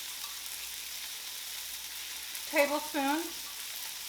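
Shrimp sizzling on a hot griddle, a steady soft frying hiss running throughout, briefly covered by a short burst of nearby speech.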